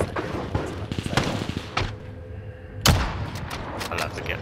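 Sniper rifle fire in an online shooter game, several sharp cracks and booms spaced a second or so apart, with a voice talking between them.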